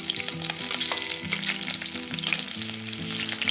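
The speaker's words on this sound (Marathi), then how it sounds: "आपल्याला इथे मिरची चांगली तळून घ्यायची आहे गॅस मंदच ठेवलेला आहे" Green chilies fry in peanut oil in a kadhai over a low flame, giving a steady close sizzle with faint clinks and scrapes of stirring throughout.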